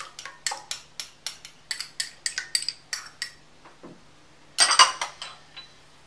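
A whisk rapidly clinks against a bowl while sauce ingredients are mixed: brown sugar, garlic powder and A1 sauce. The taps are quick, regular and close, ending in a brief scraping flurry.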